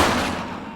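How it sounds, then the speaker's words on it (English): A single broadband burst of gunfire from The Precinct police game, loud and close, decaying steadily over under a second with no talking. "Shots fired!"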